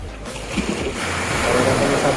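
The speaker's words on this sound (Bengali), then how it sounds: "বড় বড় ঢেউ আসছে।" Big sea waves breaking on the beach along the Digha–Tajpur coast make a broad, rushing wash that swells over a couple of seconds, with a voice talking over the surf.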